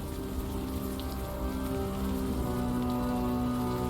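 Steady rain pours onto hard surfaces in the video game Unavowed, a dense, even hiss of drops that holds without a break from start to finish, with no voices over it.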